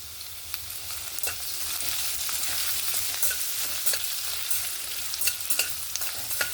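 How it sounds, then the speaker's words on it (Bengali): Chopped ginger, garlic and green chilli fry in hot oil with a steady, close sizzle, stirred now and then so crackles and scraping clicks pop out irregularly over the hiss. "প্রথমে আমি আদা, রসুন আর কাঁচা লঙ্কাটাকে হালকা একটু পরিমাণ একটু ভেজে নেব।"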